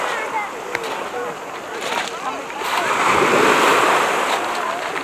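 Calm Black Sea waves washing onto the shore at a campsite beach near Ashe, Greater Sochi, a steady rushing wash that swells louder midway, close, with wind buffeting the microphone.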